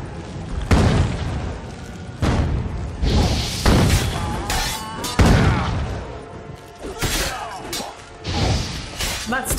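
Fire spell blasts from The Witcher 3 during a fight with Eredin burst out as a string of loud, crackling booms and whooshes, several close together with short gaps between them.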